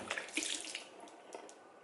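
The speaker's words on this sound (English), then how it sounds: "putting some water on my face" Tap water runs steadily into an airport restroom sink while someone washes their face, a close, continuous splashing stream with no talking.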